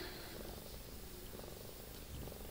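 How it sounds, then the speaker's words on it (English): A cat purrs loudly and steadily in close-up, a continuous rumbling drone with no speech over it. "she's got a loud purr."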